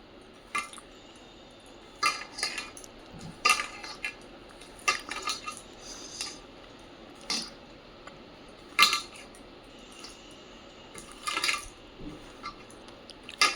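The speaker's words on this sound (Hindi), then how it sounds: "इस तरह से मैं इसको अच्छे से हाथों से मिला लूँगी" Ground sugar is mixed by hand into a gujhiya filling in a bowl, giving scattered light clinks and scrapes at irregular intervals against a quiet background.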